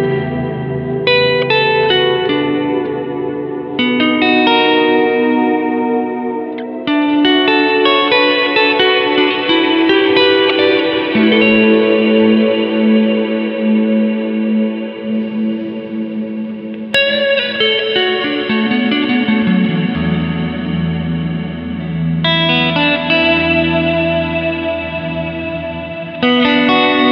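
Electric guitar chords played through a Fender Marine Layer reverb pedal ring out with a lush, washy reverb tail and shimmering modulation, strummed phrases fading into spacious echoes.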